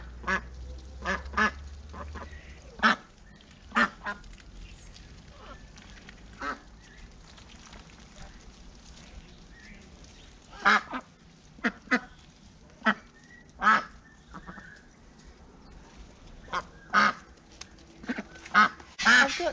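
Ducks quack in short, scattered bursts around a garden, single calls and quick doublets spread across a quiet background, fairly faint and unhurried with no voices over them.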